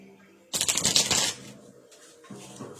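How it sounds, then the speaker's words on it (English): Tarot cards being shuffled in a loud, dense burst of riffling and flapping for under a second, followed by softer handling noise and faint shuffling toward the end. "While I shuffle up these cards again"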